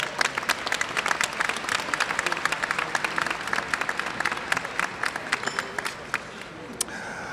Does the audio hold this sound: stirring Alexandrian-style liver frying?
no